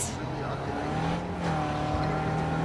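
Car driving in Cyberpunk 2077: a smooth, steady engine hum with a faint whine rising slightly, heard with a voice talking over it.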